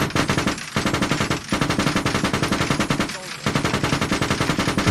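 A tank's coaxial machine gun in a video game fires long, rapid, steady bursts, loud and close, broken by two brief pauses.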